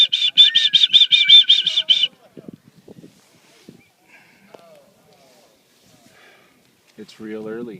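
A pet bird chirps close by in a rapid, even string of bright, high calls for about two seconds, then goes quiet except for soft rustles before a person's voice comes in near the end.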